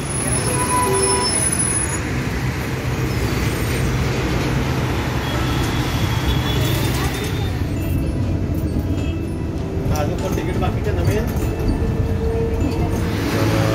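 Steady interior rumble of an NMMT electric air-conditioned bus travelling from Kalwa toward Turbhe, with continuous road noise and hum at a moderate level and no speech.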